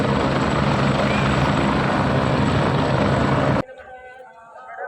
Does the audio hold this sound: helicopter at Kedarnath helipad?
yes